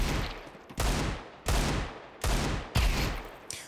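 Gunshots in Counter-Strike 2 ring out in four separate bursts about 0.7 seconds apart, each a sharp, loud crack with a short decaying tail and no voices.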